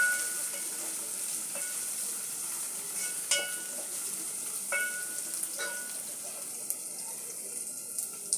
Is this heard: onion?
yes